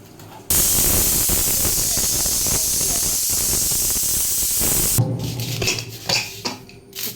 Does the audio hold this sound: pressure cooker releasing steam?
yes